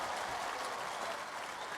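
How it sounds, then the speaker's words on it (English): A big round of applause from an online class group, steady dense clapping throughout at even loudness with no pauses. "Can we get a big round of applause for everybody for scripting talk?"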